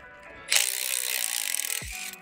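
A ratchet on an 11 mm copper turbo nut of a BMW N55 engine gives a close, loud run of rapid clicking that lasts over a second, followed by a brief low thump.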